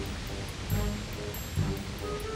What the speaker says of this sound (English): And the waterfall's so loud,